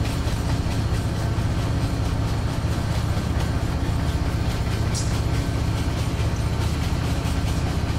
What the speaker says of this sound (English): Here's our other train.